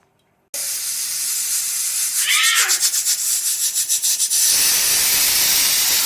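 A pressure cooker cooking masoor dal vents one whistle: a sudden loud steam hiss bursts in, swells into a rapid pulsing flutter, then settles into a steady rushing jet, close and alone.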